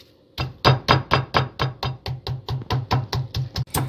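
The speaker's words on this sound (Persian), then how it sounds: "فیلامونو با بیفتک کوب میکوبیم تا کامل باز بشه" A meat mallet pounds beef fillets for homemade schnitzel, fifteen or so steady, evenly spaced thuds close up and loud, with no talking.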